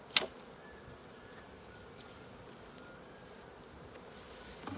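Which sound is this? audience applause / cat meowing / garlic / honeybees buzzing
honeybees buzzing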